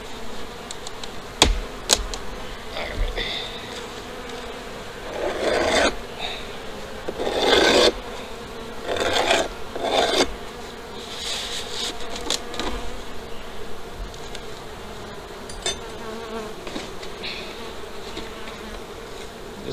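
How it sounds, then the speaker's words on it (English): Honey bees hum continuously inside an opened farm hive during sugar-water feeding, a close, steady drone with scattered scraping and rubbing sounds from handling the hive. "I can't get over all the bees inside here"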